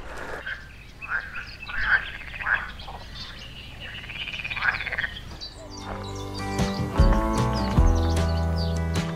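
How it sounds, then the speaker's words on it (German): Frogs croak constantly beside a meadow and small stream in the Spreewald, a dense chorus of repeated calls; someone speaks over the first half before the croaking stands out alone, loud and near. "Und was total krass ist hier, sind die ganze Zeit die Frösche am Quaken."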